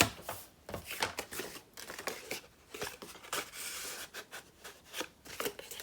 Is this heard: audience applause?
no